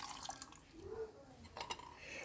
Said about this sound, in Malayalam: ഇതിലേക്ക് കസ്റ്റാർഡ് കലക്കിയത് നമ്മൾ ഇതിലേക്ക് ഒഴിക്കുകയാണ്